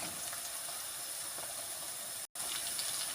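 Onions and peppers sautéing in a pan give a steady, soft sizzling hiss throughout, with one very brief dropout.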